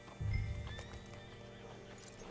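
A horse in the Red Dead Redemption 2 video game clops its hooves and lets out a whinny, a low snort up front followed by steady hoof steps and a rising neigh over game ambience.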